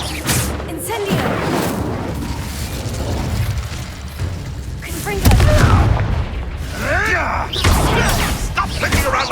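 Incendio fire spell cast in Hogwarts Legacy during combat, heard as bursts of whooshing, crackling blasts that recur over a busy mix of battle effects.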